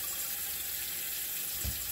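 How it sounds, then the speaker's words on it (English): Warm tap water runs steadily from a faucet into a sink while someone washes their face, a continuous close hiss of flowing water with a brief low splash near the end. "I always try to wash it with a little bit of warm water."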